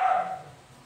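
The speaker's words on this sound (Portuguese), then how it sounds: "As minhas cachorrinhas estão insultando as maiores." A brief, sharp yap from a small dog barking at bigger dogs, a single near bark that fades quickly, with no voices.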